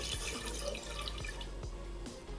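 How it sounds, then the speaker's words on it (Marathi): Half a jug of water poured into a pressure cooker on the stove, a steady close splashing trickle heard alone beneath a constant low hum. "त्या कुकरमध्ये थोडस एक अर्धा तांब्या पाणी ओतणार आहे"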